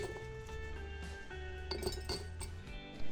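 Glass jars clink together as they are set out for pickling curried zucchini with peppercorns and onion. The light, close clinks come in several quick, irregular taps over a steady low kitchen background.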